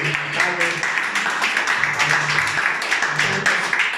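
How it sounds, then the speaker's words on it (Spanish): A church congregation during a pastor's sermon claps for Yolanda, a steady crowd of hand claps with voices speaking over it throughout. "aplauso a Yolanda"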